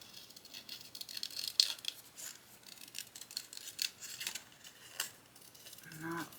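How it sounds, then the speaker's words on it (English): Scissors roughly fussy-cut lace, giving soft, intermittent snips and faint paper-like rustles close to the mic, with no talking. "I think I want to cut this lace out. I'm just going to rough fussy cut this out."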